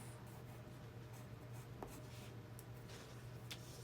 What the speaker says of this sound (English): This pencil, the lead isn't really dark, so hoping I'm tracing well enough.